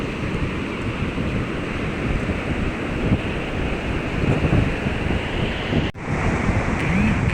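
Sea waves break continuously on the beach at Puri, India, with wind blowing over them. The surf is loud and steady with no talking.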